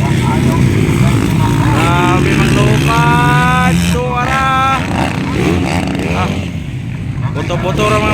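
Racing motorcycles in an intermediate production class motocross race roar and rev, their engines whining up and down in pitch over crowd noise, while an announcer talks excitedly over the engines.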